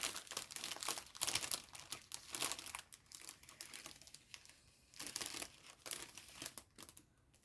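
Thin paper scraps crinkled and rustled by hand close up, in irregular bursts of crackling with brief quieter pauses.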